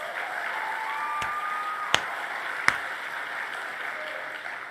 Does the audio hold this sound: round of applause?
yes